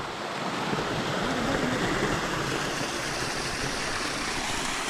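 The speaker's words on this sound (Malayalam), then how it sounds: "ഒരു ചെറിയൊരു വെള്ളച്ചാട്ടം പോലെ അല്ലേ" Constant rushing water noise, full and steady throughout, like a small waterfall pouring nearby, with no voices.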